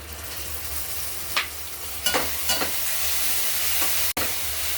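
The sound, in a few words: tomato puree stirred into frying golden onions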